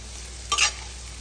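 Bitter gourd (pavakkai) sautéing in a pan gives a steady faint sizzle, with one short scrape of stirring at close range.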